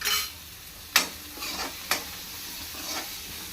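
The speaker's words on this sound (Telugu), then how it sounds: "అదే ఆయిల్లో బీట్రూట్ని ఫ్రై చేసుకుందాం." Beetroot frying in oil with half a spoon of turmeric makes a soft, steady sizzle, punctuated by two sharp spatula scrapes or taps about a second apart.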